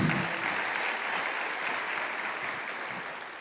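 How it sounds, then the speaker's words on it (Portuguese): A church congregation breaks into dense, continuous applause, a steady wash of many hands clapping that holds at an even level for a few seconds without pause. "pode aplaudir o Senhor."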